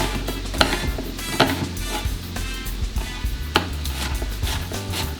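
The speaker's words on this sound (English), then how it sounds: "we're gonna come back over to the onions, and we're gonna finish giving them a chop" A knife roughly chops onions on a cutting board, with sharp, irregular knocks repeating every second or so over a steady low kitchen hum, close and fairly loud.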